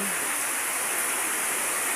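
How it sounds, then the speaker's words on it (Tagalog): Heavy rain, arriving in a storm with strong wind, pours down as a loud, unbroken broadband hiss that fills the whole stretch with no pauses or voices. "ayan, guys, ulan"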